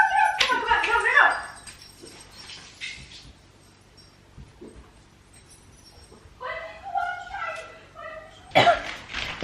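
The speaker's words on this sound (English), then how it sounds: "My dog just threw up" A dog named Leo heaves and gags while vomiting indoors, a few wet retching bursts at close range, with people talking over and around it.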